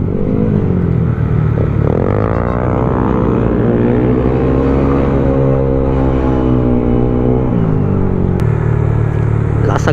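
A Yamaha Aerox V2 215cc scooter engine revs in the Kaybiang Tunnel, loud and close, pitch climbing and falling through throttle sweeps, with a steady low drone of other traffic echoing in the tunnel.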